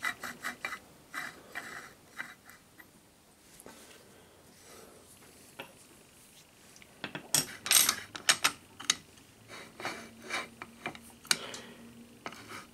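The feed ratchet mechanism on a Drummond Bros metal shaper clicks and clunks as it moves back and forth, faint mechanical ticks rising to a cluster of sharper metallic clacks, close with no talk.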